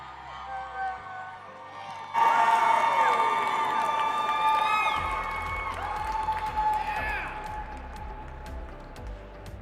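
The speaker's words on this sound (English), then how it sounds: "Please give the most thunderous applause for Miss Meg Skop" A barista championship finals crowd bursts into loud cheering and whooping, with scattered clapping, the noise swelling suddenly and then holding at a lively level.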